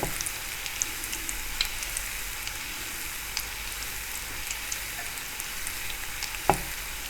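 Jali kabab fries steadily in oil in a pan, a dense, even sizzle and crackle running throughout with a few brief pops and a louder spit near the end; no voices.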